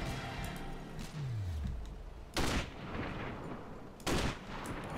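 Two sharp sniper rifle shots in the video game Sniper: Ghost Warrior, each a loud, sudden crack with a brief trailing echo, spaced about two seconds apart over a steady background rumble.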